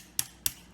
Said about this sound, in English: I need to tap this shaft out that way. So let me go and get a little tap and a little hammer and do that.